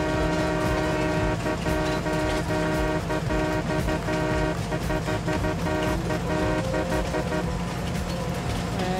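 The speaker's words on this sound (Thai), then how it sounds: "รถไฟจากไหนวะเนี่ยอย่ามาชนกูนะเว้ย" A game train rolls past on a single track in Farming Simulator 19, with a steady loud rumble of wheels and carriages and sustained horn tones running throughout.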